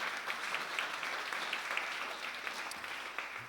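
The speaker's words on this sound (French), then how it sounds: "Que ceux qui le croient applaudissent le Seigneur." A church congregation at a Sunday service claps together in a faint, steady patter of applause, with a few sharper individual claps standing out over soft room ambience.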